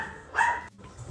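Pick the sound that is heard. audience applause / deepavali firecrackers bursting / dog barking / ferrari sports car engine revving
dog barking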